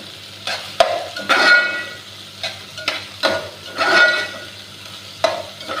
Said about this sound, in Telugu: తర్వాత మిర్చి, ఉల్లి ఆకులు, వేసుకున్న తర్వాత ఒకసారి మొత్తం కలుపుకున్నాను